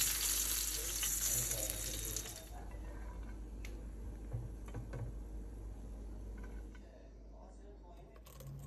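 Fish frying in a pan gives a bright, hissing sizzle that is strongest at first, then settles into a softer crackle, with faint kitchen handling noises.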